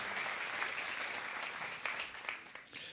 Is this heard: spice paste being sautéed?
no